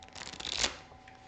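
A Lord of the Rings card game encounter deck gets a quick riffle shuffle, one brisk papery burst of cards up close.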